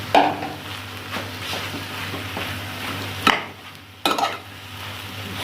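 Mashed potatoes being stirred into a chicken samosa filling in a pan, giving a steady soft scraping and mixing sound with two sharper clanks of the spoon against the pan near the end.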